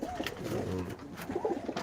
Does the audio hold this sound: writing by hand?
no